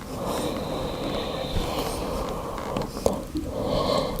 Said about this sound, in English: Taking 2 breaths here.